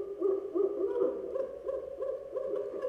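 An owl gives a series of soft, low hoots, roughly eight evenly spaced calls at a moderate distance, with nothing else audible.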